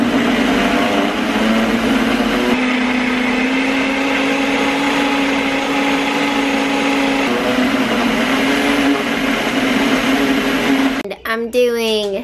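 A blender runs loud and steady, mixing homemade baby food of blueberries, apples, pears, avocados, carrots, sweet potatoes and oranges, with its motor pitch shifting slightly before it winds down abruptly near the end.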